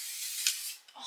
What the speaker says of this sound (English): Now I need to hairspray that.